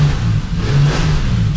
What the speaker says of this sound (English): Give her a couple little revs. Listen to her.